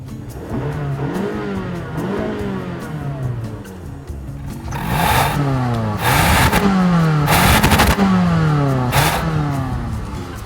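A Toyota Camry's 2.5-liter 4-cylinder engine revs and accelerates repeatedly during a 0-60 mph run, rising in pitch with each pull, loud and close, with a brief quieter lull midway.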